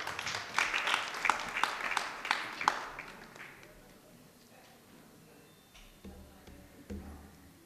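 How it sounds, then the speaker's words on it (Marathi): Scattered audience applause at a Marathi music programme in Akole, a few sharp claps standing out early before fading into quieter room noise and low murmuring. "सर्वांनी टाळ्या वाजवायच्या आहेत."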